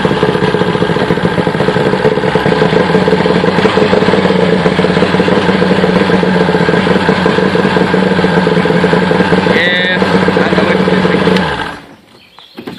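A 1979 Silverline boat's outboard motor runs loudly and continuously at idle with an uneven, sputtering, misfiring rhythm, then cuts out near the end.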